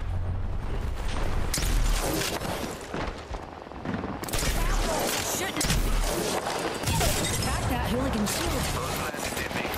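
Rapid video game gunfire as repeated booming bursts and crashes through most of the stretch, loud and close, mixed with shouting voices and a brief lull midway.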